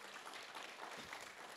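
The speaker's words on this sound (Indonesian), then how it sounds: "Boleh beri tepuk tangan untuk Tuhan" A church congregation applauds in worship, a diffuse, faint wash of many hands clapping, steady throughout and heard from some distance.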